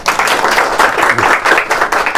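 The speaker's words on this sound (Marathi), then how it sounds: "त्यांसाठी पुन्हा एकदा जोरदार टाळ्या उद्या" An audience at a quiz round claps loudly, a dense, lively burst of applause filling the room for a couple of seconds.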